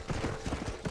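A horse gallops in the video game Red Dead Redemption: Undead Nightmare, its hooves landing in a quick, even rhythm of dull thuds. The hoofbeats are fairly loud and close, with no talking over them.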